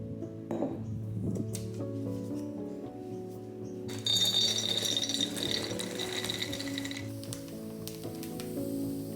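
Glass pantry jars are filled in a country homestead pantry, with a steady rushing pour and light clinks of glass over quiet background music.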